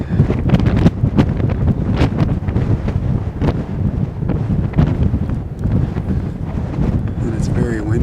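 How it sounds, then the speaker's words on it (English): Strong, constant wind buffeting the microphone at a wind farm near Joshua Tree, a dense low roar with gusty thumps throughout, while a person talks under it. "And it's very windy all the time too."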